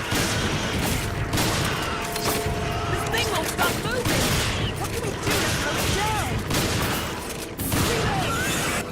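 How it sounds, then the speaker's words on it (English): Gunfire in the Resident Evil 5 train station level, shooting proximity bombs to set them off: repeated shots and blasts over a busy game soundscape of clanks and thuds, continuous and fairly loud. "You can shoot the proximity bombs."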